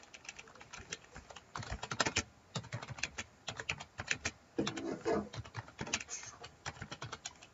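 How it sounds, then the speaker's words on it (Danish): Fast, uneven clatter of keys on a mechanical computer keyboard, with dense bursts of clicky keystrokes and brief pauses, close and steady for several seconds. "Så jeg bruger et mekanisk tastatur."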